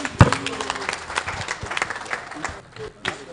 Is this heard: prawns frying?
no